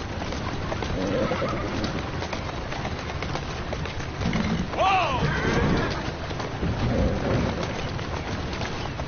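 A horse in Assassin's Creed gives a brief high neigh amid steady rain-like ambience and hoof clatter, heard midway under a continuous background wash while a person speaks softly.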